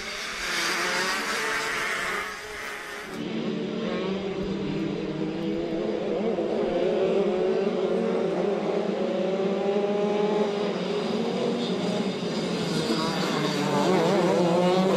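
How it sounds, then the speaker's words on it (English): Shifter karts roar off the line at the start of a 4-cycle league final at Adams Motorsports Park, a dense pack of engines revving and whining together, loud and close, with a commentator talking over the noise. "Let's go for Dell one more time this Saturday as we go green for the shifter final."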